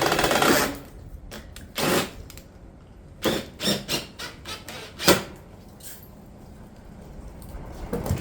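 Fasteners are driven through a Pine Crest shake cap onto a caulked hip ridge and a 2x2 on a roof. A string of sharp, close snaps and taps comes at an uneven pace, with quiet stretches between them.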